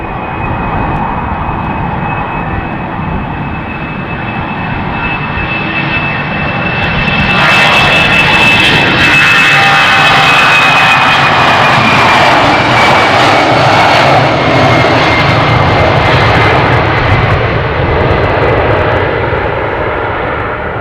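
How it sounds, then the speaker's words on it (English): A jet airliner takes off from Amsterdam Schiphol Airport. Its steady engine whine builds into a loud, broad roar about a third of the way in and stays strong and close to the end. "This runway has been in use the entire morning for takeoffs."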